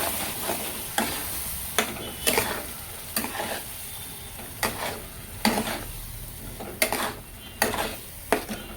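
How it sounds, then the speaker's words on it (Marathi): Spice paste frying in a pan for boiled-egg curry, stirred with a regular rhythm of scrapes and clacks roughly every half second to second over a constant low sizzle, close up with no voices. "हे वाटण आपण घालून मग फिरून घेऊया 2 मिनिटं"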